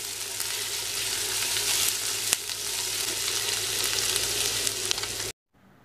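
Finely chopped ginger, about one and a half teaspoons, sautéing lightly in a pan for a yam curd curry, a steady close sizzle with a few scraping clicks, cutting off abruptly near the end.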